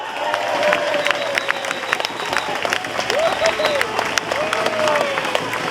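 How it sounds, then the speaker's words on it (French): Audience applause at a stand-up comedy show in Trois-Rivières, steady dense clapping from a large crowd with a few whistles and cheers rising over it, continuous for the whole stretch. "une main d'applaudissement pour tous les moutons"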